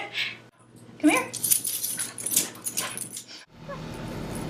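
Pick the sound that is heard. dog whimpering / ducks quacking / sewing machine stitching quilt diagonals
dog whimpering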